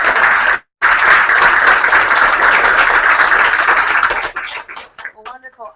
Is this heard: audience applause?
yes